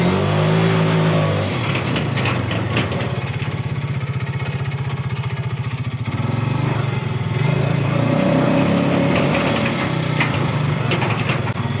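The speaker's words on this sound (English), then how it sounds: "it looks like taking off from a dead stop, 0 to whatever it'll do" A 2025 Bighorn 450 Pro Max side-by-side UTV pulls away from a dead stop in low range two-wheel drive, its small engine droning loud and close with a steady buzzing roar throughout.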